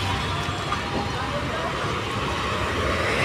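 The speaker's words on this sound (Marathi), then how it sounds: "हे बघ किती ट्रॅफिक जाम आहे ग, बापरे" Dense road traffic in a jam, a continuous broadband rumble of idling and creeping engines with a hiss of nearby vehicles, steady and fairly loud throughout.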